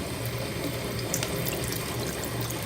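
Cool water runs steadily from a kitchen faucet into a sink, a close, even splashing stream with no pauses and no voices.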